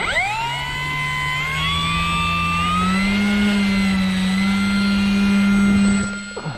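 The electric motor of an FMS ASW 17 RC glider runs as a loud, steady whine that climbs in pitch partway through and holds high before easing off at the end; no one talks.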